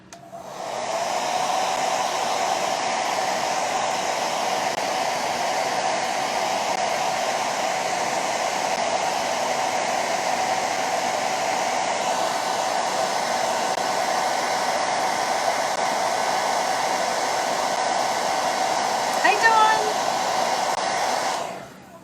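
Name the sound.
hair dryer blow drying paint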